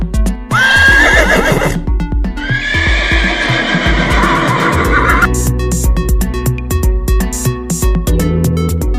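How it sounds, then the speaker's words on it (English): A horse neighs loudly in two long whinnies, the second shrill and extended, followed by rhythmic clip-clop hoofbeats continuing to the end, all alone with no talk. "Horse."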